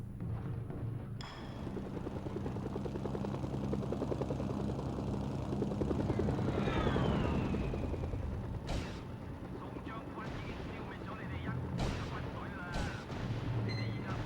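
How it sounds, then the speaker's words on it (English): A helicopter in the PS2 game Mercenaries: Playground of Destruction: a steady rotor drone flying beneath rattling bursts of gunfire and a few sharp cracks. "In my heli."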